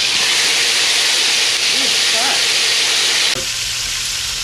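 Spices frying in a pan for a Spanish goat curry, a loud steady hiss and sizzle that drops slightly near the end, with a voice briefly audible.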